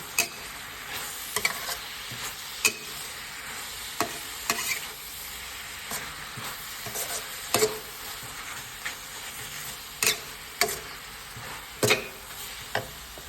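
Pork with bamboo shoots, basil and spring onion stir-fries in a pan, a steady sizzle broken by regular scraping clacks of a spatula at close range.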